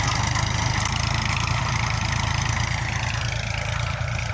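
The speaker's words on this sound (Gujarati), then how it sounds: "જુઓ જી, આ અમારો દતાળ હાલે છે જોરદાર." A tractor engine runs steadily while pulling a harrow through a field, a loud, continuous low rumble with no pauses, close by.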